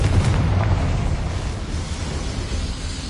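A dense, roaring explosion from the Confringo spell in a video game, loud and sustained with rumbling low end and crackling debris that slowly thins out over three seconds.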